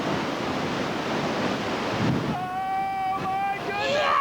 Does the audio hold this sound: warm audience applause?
no